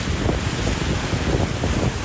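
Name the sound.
large ocean waves crashing during storm flooding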